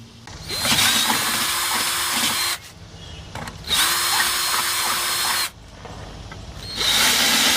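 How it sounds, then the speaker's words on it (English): Power drill boring holes into a mower grass flap on a Hustler Super S, in three loud, sustained bursts separated by short pauses, close up. "So let's get these holes drilled and get this thing attached on here."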